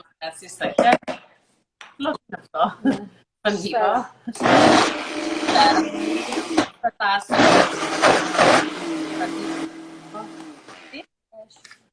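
A Vitamix blender whirs loudly in two long bursts, with a voice talking between and around them.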